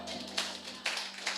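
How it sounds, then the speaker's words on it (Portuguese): A church congregation claps for the Lord during a sermon, three distinct bursts of clapping rising over a low steady hum, fairly soft and brief. "Vamos lá aplaudir o Senhor"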